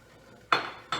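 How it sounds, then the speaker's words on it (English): A whisk stirring Jell-O into strawberry pie filling in a pot gives two sharp metallic clinks about half a second apart, close and bright against a quiet background. "I'm gonna just have you keep whisking"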